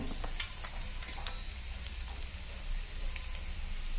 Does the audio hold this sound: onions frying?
yes